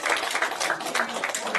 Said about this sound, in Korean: 감사님께 일단 큰 박수 보내시면 됩니다